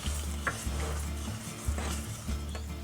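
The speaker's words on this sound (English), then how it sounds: "So we're just going to keep on mixing this until the sugar is completely dissolved." A sugar, corn syrup and salt mixture for caramel is stirred in a pot, with repeated low scraping strokes against a soft background sizzle.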